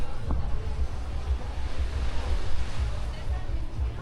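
Strong wind and surf roll in at a beach in Playa del Carmen, a continuous broad rush with gusting buffets against the mic and faint voices in the background.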